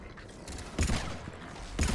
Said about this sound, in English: This gun is powerful. It like shakes the screen when I shoot it.